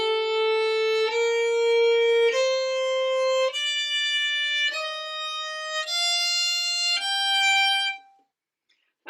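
Solo violin plays a G natural minor scale as written, bowing one sustained note after another in a steady ascending line, close and clear, ending in silence.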